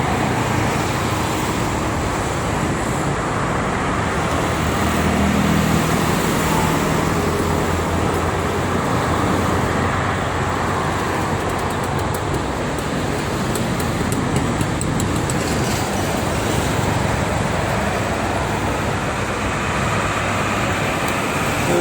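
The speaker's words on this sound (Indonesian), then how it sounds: "Arah Jakarta juga sama ya, ramai itu truk-truk." Busy traffic dominated by trucks on the Cikampek toll road, a continuous dense roar of heavy vehicles rolling past at close to middle distance, loud and unbroken with no voices.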